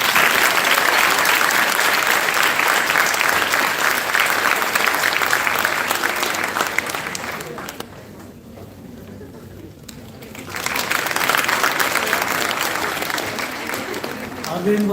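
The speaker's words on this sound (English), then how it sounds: "A round of applause to make Arvind happy." Loud sustained applause from an audience at a school opening ceremony, dropping away mid-clip to a quieter lull where talk and a pigeon-like coo come through, then swelling back into full clapping.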